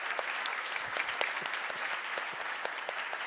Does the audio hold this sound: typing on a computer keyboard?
no